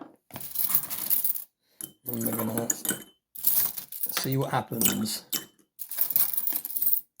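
Silver coins are dropped one after another into a cleaning solution, making repeated metallic clinks and splashy jingles in several bursts with short pauses between them, while a person speaks briefly.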